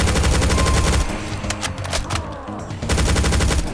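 Chaingunner enemies in DOOM 2 fire rapid, dense bursts of automatic gunfire, loud and continuous, easing briefly midway before another hard volley resumes.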